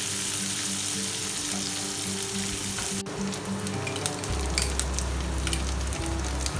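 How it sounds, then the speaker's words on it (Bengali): Chopped onions frying in hot oil with whole garam masala, a continuous close sizzle that jumps in texture partway as the onions go in, with crackles and bright spits over a low background hum, no talk. "এর মধ্যে এবার চপড অনিয়নগুলো অ্যাড করে দেব।"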